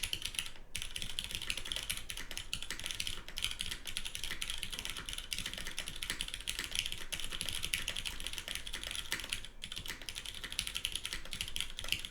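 Fast, continuous typing on a Matrix 8XV mechanical keyboard gives close, dense clacky keystrokes with a slightly rattly edge and a few brief pauses.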